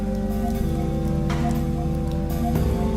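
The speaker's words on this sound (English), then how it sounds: "The pitter-patter of the rain thankfully muffles the sounds of my footsteps." Rain pattering steadily on surfaces in the video game Cienie, a dense continuous hiss of drops over a low droning ambient hum, even and close throughout.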